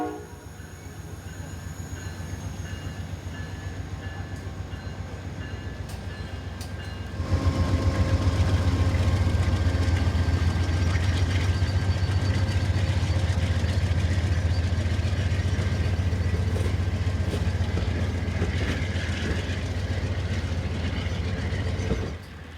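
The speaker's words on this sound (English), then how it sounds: "Expecting the Palmetto to be delayed as advertised, we were still wiping the rain from our camera lenses when it slipped in behind us." Amtrak's northbound Palmetto, Train 90, a passenger train, pulls in on a rainy day in eastern Virginia. A steady low rumble grows suddenly louder and closer, then holds as heavy continuous rolling noise, with no voices.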